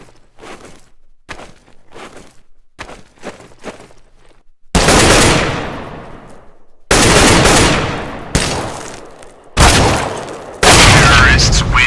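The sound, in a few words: gunfire in Counter-Strike video game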